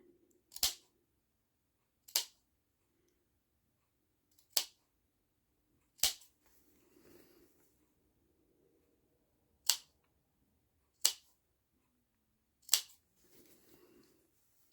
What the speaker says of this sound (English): I'm going to make little cuts. Just be careful not to cut into your seam.